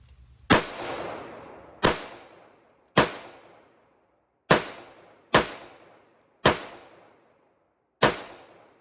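Sharp, loud pistol shots from a Remington 1911 R1S, seven single cracks spaced about a second apart with short decaying tails, close up and with no voices between them.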